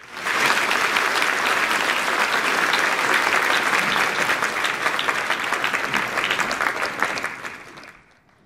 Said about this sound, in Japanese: 皆様改めまして二代林家三平様に大きな拍手をお願いいたします